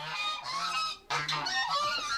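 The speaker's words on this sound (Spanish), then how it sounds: "Cada mañana en el complejo penitenciario de São Pedro de Alcântara, en el estado brasileño de Santa Catarina, es usual escuchar un alboroto de graznidos." A flock of geese honks loudly and continuously at a prison complex in Santa Catarina, Brazil, with overlapping harsh calls, one brief dip in the clamour, then the honking resumes.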